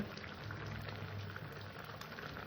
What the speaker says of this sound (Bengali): ডালটাকে এবার আমি সুন্দর করে ফুটিয়ে নেবো